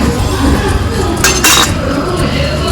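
Metal utensils scrape and clink against a pan in a few quick strokes, mixing red chilli powder, garam masala and black masala for a village chicken curry, with a brief louder clatter midway over steady background noise.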